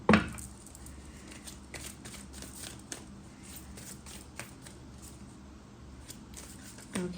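Tarot cards are shuffled at close range, a steady soft riffling of many quick flicks and crisp clicks, slightly louder bursts at the start and end, with no speech.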